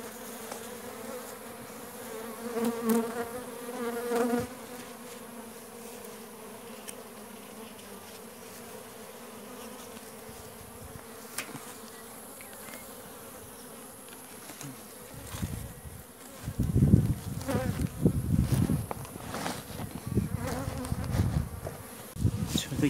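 Honeybees buzz at a hive during beekeeping work on a weak colony being merged with a queen hive, a steady low drone with faint handling noises and louder close bumps near the end.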